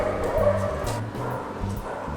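Dogs bark at skateboarders on a street in Buenos Aires, giving a string of short, mid-distance woofs and yips in quick bursts over background city noise.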